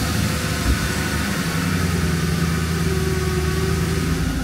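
A Mercedes C-Class W203 fitted with an M273 V8 engine runs with a steady, close, rumbling idle that hums low and even throughout, with no talking.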